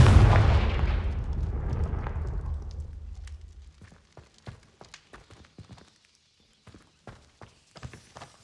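A Confringo fire spell explodes in the game Hogwarts Legacy, a single loud burst whose low rumble decays over several seconds into scattered faint crackles and taps.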